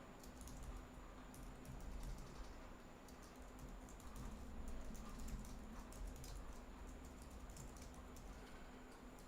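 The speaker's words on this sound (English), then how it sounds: "I have to be pressing the shift key each time I'm about to type something" Soft, quiet typing on a computer keyboard while entering code, with a steady patter of light key clicks and occasional shift presses, close but low under a faint background hum.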